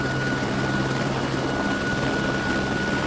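Inside an eleven-troop transport helicopter, a loud steady rotor and engine drone with a constant whine, unbroken and close, with no voices.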